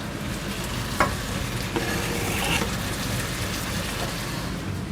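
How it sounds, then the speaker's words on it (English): Minced beef with garlic and chilies sizzles steadily in a hot pan, a dense continuous frying crackle with a few brief clinks of a utensil, close and fairly loud with no talking. "I'm just going to add the garlic and the chilies to the minced beef"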